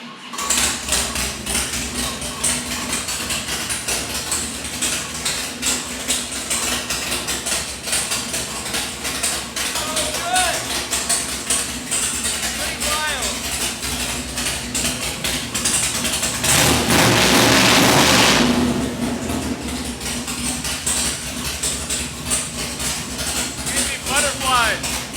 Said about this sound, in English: I wanna fire this thing up, let you hear it idle